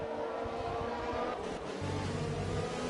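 Formula 2 race cars in a racing video game roar steadily at high revs, a continuous loud engine whine with a brief shift in pitch as one car passes close by.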